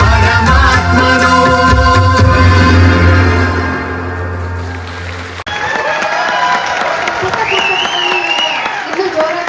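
A crowd at an Ugadi festival stage show for children claps loudly and continuously, with scattered cheers blending into the steady patter, after music stops abruptly partway through.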